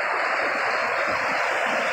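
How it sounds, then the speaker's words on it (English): Fast-flowing floodwater after heavy rain rushes in a steady, dense roar, continuous and close with no pauses or voices. "And that water's going pretty fast."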